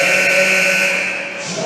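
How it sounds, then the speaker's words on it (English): A basketball game-end buzzer sounds in a 2019 Petersburg Cavalier vs PrimeTime Players game: one loud, sustained, harsh tone that holds for nearly two seconds and eases off slightly toward the end. "And that's the buzzer, no good."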